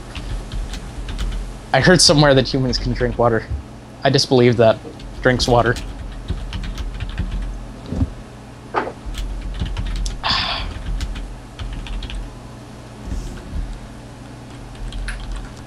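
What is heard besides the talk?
typing on a computer keyboard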